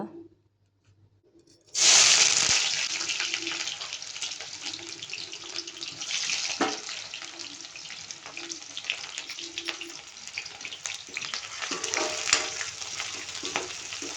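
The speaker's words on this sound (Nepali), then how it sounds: "अब यसलाई तेलमा फ्राई गर्ने।" Onions sizzle and crackle steadily in hot oil in a pan, starting abruptly after a near-silent moment and holding a loud, continuous fry with occasional stirring scrapes.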